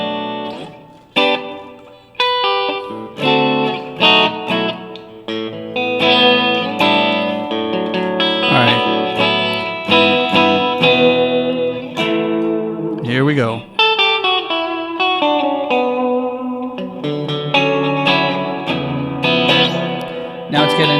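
Electric guitar chords and melodic lines ring out through a Strymon Flint pedal's rack mount hall reverb, with a lush, long reverb tail, played steadily and loud with no voices.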